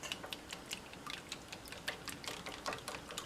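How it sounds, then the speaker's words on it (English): Buttermilk being whisked in a bowl while prepping a fried chicken sandwich, a quick run of light, crisp ticking taps from the whisk against the bowl, fairly faint and steady, with no talking. "now we're just going to whisk that up"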